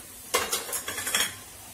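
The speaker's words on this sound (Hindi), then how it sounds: "ये देखिए थोड़ा ब्राउन होने देना, ये देखिए फ्लेम हाई रखिए, इसको थोड़ा भूनिए" Green masala and green chillies frying over a high flame for spring onion egg curry, a burst of sizzling with a few quick scrapes of a spoon against the pan, short and close.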